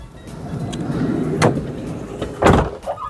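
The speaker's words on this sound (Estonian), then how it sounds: "Ukse avad, astmelaud tuleb välja, see on see nii-öelda off-road astmelaud" The door of an Adria Supertwin 4x4 600 SPB camper van on a Mercedes base opens and its off-road step extends: a low mechanical motor whir and rumble, then a sharp clunk, with a second louder clunk near the end.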